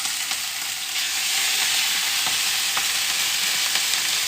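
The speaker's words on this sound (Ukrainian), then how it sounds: "Як тільки поклали м'ясо на сковорідку" Steady, bright sizzling of meat for shawarma frying in a hot pan, a continuous crackle with occasional sharper pops, close and fairly loud, no voices.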